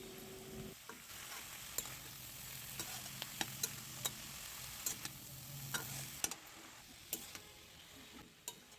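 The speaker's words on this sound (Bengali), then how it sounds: "সেই কাটা মেথি শাকগুলো এর মধ্যে দিয়ে দেয়া হলো" Coarsely cut fenugreek leaves stirred into potatoes in a pan, a soft continuous sizzle broken by repeated sharp clicks and scrapes of a spatula against the pan, close and fairly quiet.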